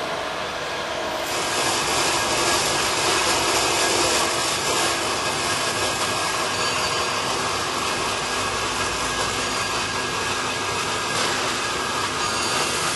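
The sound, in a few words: saw cutting pipes to length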